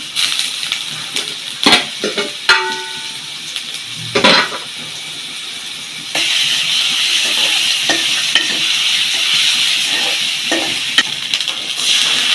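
Onion, garlic and ginger paste goes into a hot pan with a few sharp clanks of a spoon, then a steady, close sizzle of frying takes over with occasional stirring taps.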